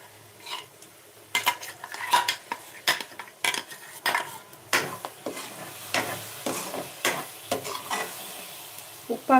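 Ground paste for a ridge gourd gojju frying in a pan, with a soft sizzle under repeated scraping stirs of a spoon against the metal, uneven in rhythm and close by.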